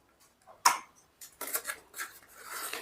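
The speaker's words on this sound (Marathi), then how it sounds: "मला इथे एक कट मारून घ्यायचा आहे आता हा मी थोडासा जाड पेपर घेतलेला आहे त्याच्यामुळे कट होतो की नाही माहीत नाही" Folded thick paper is cut through. The cutting makes a few close, crisp rasping and crunching strokes that come in short bursts after a sharp snap, with no talking.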